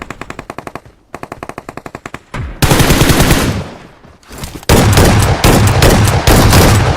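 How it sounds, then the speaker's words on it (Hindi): Rapid M4 rifle gunfire in quick, evenly spaced rounds, then heavier, louder shotgun blasts and sustained firing in a battle royale video game, close and intense with brief pauses between volleys. "पहले मैं उसको M4 से मारता हूँ, देन उसके बाद शॉटगन से शॉट मारता हूँ"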